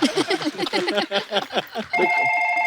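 A loud telephone ring with a sustained electronic tone starts abruptly after a stretch of rapid, bouncy musical notes.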